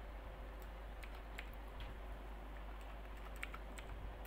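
Typing on a computer keyboard: sparse, faint keystroke clicks come in small clusters over a steady low background hum, with no talking.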